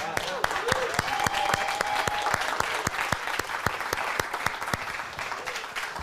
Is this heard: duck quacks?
no